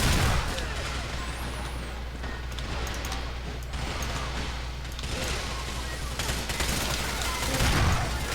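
Rapid gunfire bursts from Grand Theft Auto IV gameplay, dense and continuous over a steady low rumble, sustained throughout with a slight swell near the end.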